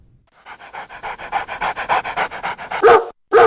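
A five-year-old white and gray male mixed-breed dog at a humane society pants close up in a fast, even rhythm of breathy puffs. A couple of louder, harsher breaths or whines come near the end.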